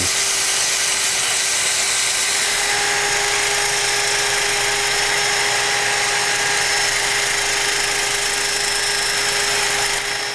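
A wooden bowl spins on a lathe while being sanded, giving a loud, constant abrasive hiss over a steady motor hum that holds for about ten seconds without pause or speech.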